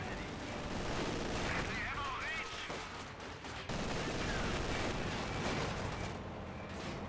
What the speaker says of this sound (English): Good volleys there into the utility car. Nice little mortar hit there.